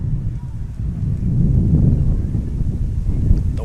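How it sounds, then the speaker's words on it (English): Low, rumbling wind buffets the microphone in uneven gusts at an outdoor high school soccer match, a continuous muffled roar that swells in the middle and stays loud throughout. "the wind blowing around at a pretty nice velocity here"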